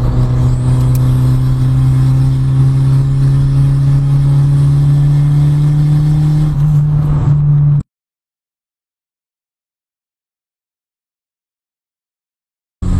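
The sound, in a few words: turbocharged car engine revving as pedal is pressed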